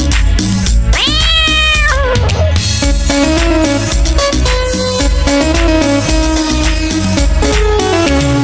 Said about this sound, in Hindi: मुझे बिल्ली ने जगाया, बोली म्याऊ म्याऊ म्याऊ